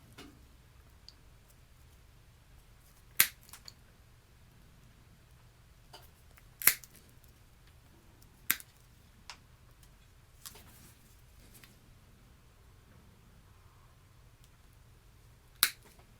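Rubber fuel line for a Poulan Pro PP258TP 25cc pole saw is cut at an angle, heard as a few sharp, isolated snips spaced seconds apart in an otherwise quiet space.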